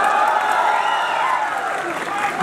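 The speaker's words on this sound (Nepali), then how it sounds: "आगो भन्ने भने यहाँ तालीले गडगडा हुन्छ" Audience applause and cheering fill a hall during a Nepali political speech event, a steady dense wash of clapping and crowd noise lasting throughout, loud and continuous with no pause.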